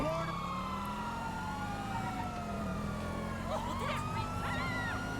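In the GTA video game, a police car siren wails in rising and falling sweeps over a steady car engine drone, moderately loud in the mix.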